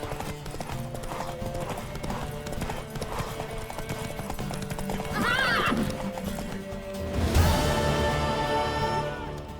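Hooves clip-clop steadily at a quick pace while a horse, a mare in The Witcher 3 video game, whinnies loudly partway through, over a busy background of ambient sound.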